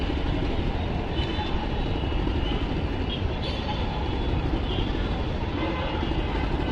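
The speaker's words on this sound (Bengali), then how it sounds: "আজকে মেট্রোল যাইতেছে, ওই দেখেন মেট্রোল।" A metro rail train passing near a building construction site, a dense, steady rumble and roar at constant loudness throughout, with no talking.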